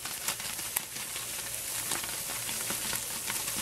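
British-style roast potatoes crackling and sizzling fresh from the oven, a quiet close-up patter of crisp pops and ticks over a soft hiss.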